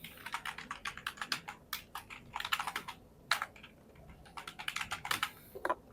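Fingers type quickly on a computer keyboard to enter a name and email, giving bursts of crisp, close clicks separated by short pauses.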